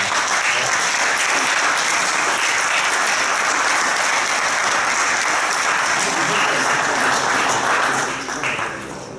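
Audience applause fills a national coordination meeting of a tenants' union in Livorno, dense, sustained clapping that holds steady for several seconds before tapering off near the end.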